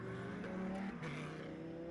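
GT race cars at Hockenheim get underway behind the safety car in wet spray, engines droning and shifting pitch as they pull away at a moderate distance, steady with no speech over it.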